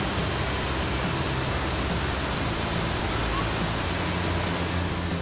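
Chet Sao Noi waterfall in Thailand, a loud continuous rush of falling water close by that fills the whole stretch without break.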